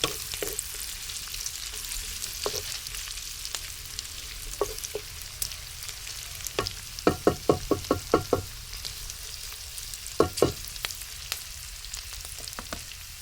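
Spices sautéing in a pan for a home-cooked Filipino dish: a steady sizzle runs throughout, broken by sharp clacks of a utensil stirring and scraping, including a quick run of knocks midway, with no voices.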